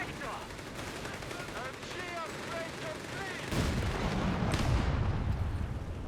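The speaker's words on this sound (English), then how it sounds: "That was a nice little mine planted by our German player. Getting some damage on that half-track." Company of Heroes 3 battle audio: a German mine blows up under a half-track amid dense gunfire and artillery, with bursts of rapid shots and booming impacts that grow heavier midway. A commentator talks over the combat.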